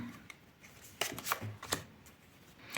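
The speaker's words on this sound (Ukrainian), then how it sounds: "Карти трохи заберу, а то вже півколоди виклала." Soft papery shuffling and a few sharp card snaps as tarot cards are handled and gathered, with quiet pauses between bursts.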